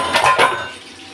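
Metal plates handled while serving food at home, a couple of close clinking clatters followed by a fading ring.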